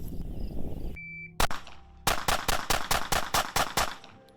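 Glock pistol fired in a quick string after an electronic shot-timer beep, with one opening shot and then about nine sharp reports in rapid, even succession, loud and close.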